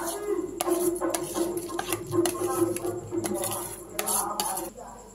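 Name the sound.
ghee-coated sama rice being added slowly to a pot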